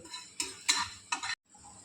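A spoon scrapes and stirs a dry spice mix roasting in a pan over medium heat for roasted-mango sherbet, giving three or four short, close rasping strokes with brief pauses between.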